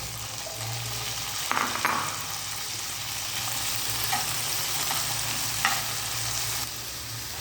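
Sliced carrots and raisins frying in oil with salt in a pan: a steady sizzle throughout, with a few stirring scrapes and clicks, no voices.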